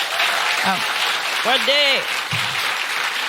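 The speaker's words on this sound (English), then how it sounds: "So big round of applause" A live podcast audience claps steadily for a tech helper, the applause running throughout with a voice calling out over it.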